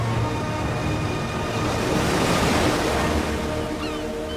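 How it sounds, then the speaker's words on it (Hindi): Rough, storm-churned ocean surf roars steadily with dense crashing waves and wind gusts, a continuous loud wash with no voices. "समुद्र बुरी तरह अशांत हो जाता है।"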